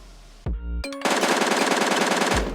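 Rapid automatic gunfire in the PUBG video game, a loud close burst of evenly spaced shots lasting over a second, with a short mechanical click and a single report just before it.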